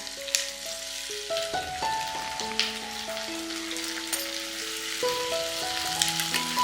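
Tomatoes go into hot oil with black pepper, star anise and mace for kaju curry, setting off a steady bright sizzle that crackles throughout, with melodic background music playing underneath.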